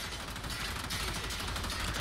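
Enemy gunfire striking the character Valkyr in Warframe, a dense, continuous rattle of shots and impacts that fills the whole moment without a break, loud and busy.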